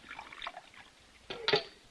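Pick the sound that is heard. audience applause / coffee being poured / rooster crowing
coffee being poured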